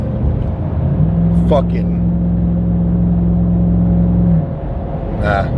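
A car engine rumbles steadily close by in traffic as a vehicle cuts and weaves between other cars, with a sustained droning tone underneath and brief shouted voices over it.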